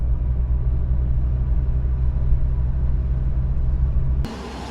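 A car driving to an industrial zone gives a steady, loud low engine and road rumble that holds evenly for about four seconds, then abruptly drops away to a quieter hiss near the end.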